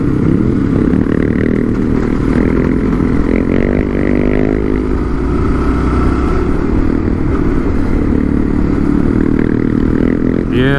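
Adventure bikes ridden hard up Hill Road at Kaipo during a GPS rally, engines droning loudly and steadily with rising and falling revs as the riders push through a corner, rough and close throughout.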